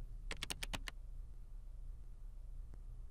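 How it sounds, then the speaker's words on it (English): A short burst of about six quick keystrokes on a computer keyboard while a search is typed, crisp and close, followed by quiet room tone and one last soft tap. "Go ahead and begin to type what you are searching for."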